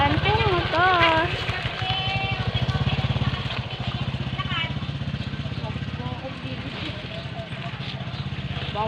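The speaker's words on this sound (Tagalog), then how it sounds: "May dadaan nga po na motor eh." A motorcycle engine rumbles steadily with a pulsing low drone throughout, passing nearby while people talk over it.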